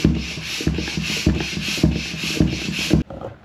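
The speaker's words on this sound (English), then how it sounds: "That's just a floor pump, folks." A hand-operated floor pump inflates a tubeless bicycle tire, giving six rhythmic whooshing strokes, loud and close, that stop abruptly near the end.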